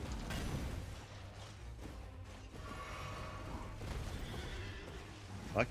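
A horse neighs in the Elden Ring video game, a loud whinny rising over a dense rumbling game soundscape with clattering hooves and a low steady background roar.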